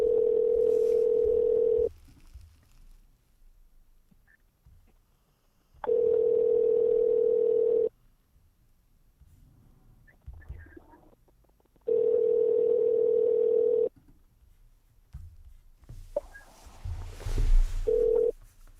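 Steady telephone call tone in repeated long bursts of about two seconds each, separated by quiet gaps with faint background noise, ringing out before an automated voicemail system picks up.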